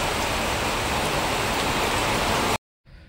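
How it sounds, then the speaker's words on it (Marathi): Heavy rain pours in a dense, loud, steady roar, then cuts off abruptly near the end before a softer hiss returns. "भरपूर असा पाऊस पडतोय बघा"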